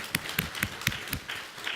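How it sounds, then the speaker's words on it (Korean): A church congregation claps in steady rhythm during a worship service, roughly four sharp claps per second repeating evenly for the whole stretch, with no voices. "박수입니다."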